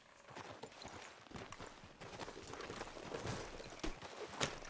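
Horse hooves clip-clop steadily in the video game Red Dead Redemption 2, a brisk, irregular stream of soft hoof thuds mixed with light rustle, fairly quiet and without talk.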